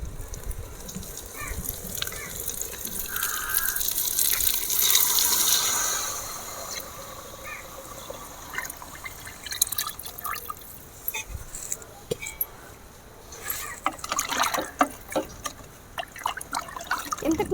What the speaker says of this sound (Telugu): ఇప్పుడు కొలత నీళ్ళు పోసుకుంటున్నా